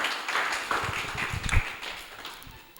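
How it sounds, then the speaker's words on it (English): Scattered audience applause at a poetry slam semi-final, a short patter of claps greeting a judge that quickly thins out and fades. "A round of applause for Bai Ibrahim Cham."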